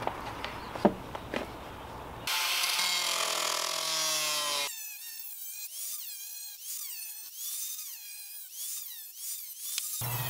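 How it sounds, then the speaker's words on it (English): An angle grinder cuts the lid rim out of a metal paint can, a loud, sustained high-pitched whine and rasp that shifts in tone partway through, preceded by a few quiet knocks and handling sounds, with no talking. "To prep my paint can, I'm going to cut out the lid rim using my grinder."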